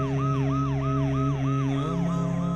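A police car siren wails in rapid repeated up-and-down sweeps, loud and close, with no talk.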